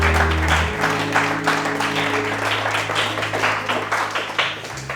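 A church congregation applauds the Lord with steady, sustained clapping throughout, loud and close, over a low organ or keyboard drone.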